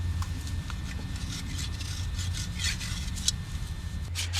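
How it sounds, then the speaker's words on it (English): A hoof rasp with a perforated blade shaves a horse's hoof wall in continuous soft rasping strokes, close up and steady, with no talking. "You can hear the softer shaving action of the original's perforated blade."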